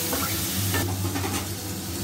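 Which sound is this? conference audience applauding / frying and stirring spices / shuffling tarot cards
frying and stirring spices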